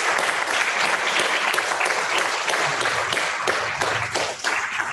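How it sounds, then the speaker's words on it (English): Audience applause at a poetry magazine launch held at London Fields Brewery: dense, sustained clapping from a crowd indoors, steady and fairly loud throughout, with faint voices underneath. "Can we give her a round of applause,"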